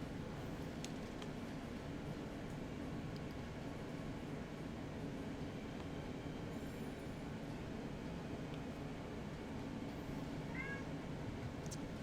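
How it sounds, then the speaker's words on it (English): A pet cat gives a faint, brief meow late on, nearly buried under a constant rushing background noise. "Kitty, why are you meowing? My cat's meowing."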